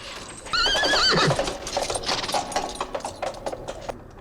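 Horses in a 1981 film scene give a loud whinny followed by a quick run of hoof clip-clops, the hoofbeats fading into a softer patter over a few seconds.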